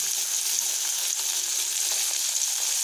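Egg and potato pieces frying in oil in a pan, a steady close hiss of sizzling with faint crackles and occasional light stirring, no voices.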